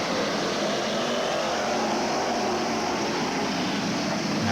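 Race cars running in heavy traffic down the main straightaway of an oval track at the 1985 Kenny Simpson Memorial race, a dense, steady engine roar heard from a distance, with no talking.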